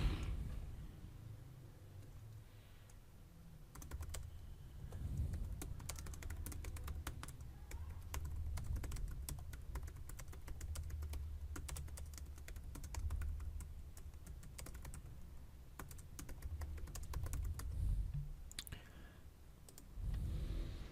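Fast typing on a computer keyboard in uneven bursts of sharp key clicks, with a low background hum and occasional thumps, and no voices over it.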